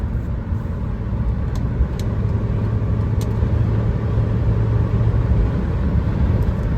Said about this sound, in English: Foot all the way down. Doesn't want to go much faster, but it's still picking up.